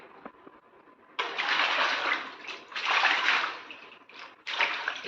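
Indian pennywort leaves are washed by hand in water, making close sloshing and splashing in several surges separated by brief lulls, with faint background noise.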